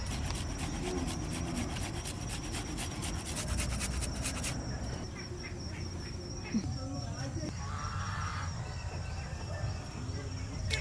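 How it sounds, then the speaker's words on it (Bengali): Fresh ginger is rubbed steadily against a hand grater in a home kitchen for momo filling, a continuous rasping scrape with a brief pause, close and fairly loud. "এবার আদাটা আমি ঘষে নেব।"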